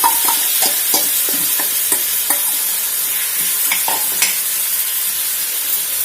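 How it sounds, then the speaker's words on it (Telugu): Soaked chicken pieces drop into a hot pan for restaurant-style butter chicken and fry with a steady loud sizzle, punctuated by light taps and stirring sounds, with no talking. "నానిన చికెన్ని తీసుకుపోయి దీంట్లో వేసి"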